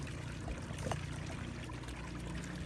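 Water from a Smart Bot submersible pump runs through a slightly kinked hose, making a faint, continuous trickling pour with no voices.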